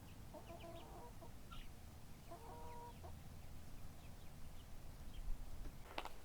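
Chickens cluck in a flock in short scattered bursts, fairly quiet and at a distance, with a brief louder squawk near the end.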